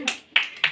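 Hands clapping at a Christian house-blessing ceremony, three short sharp claps in quick succession, close and fairly loud.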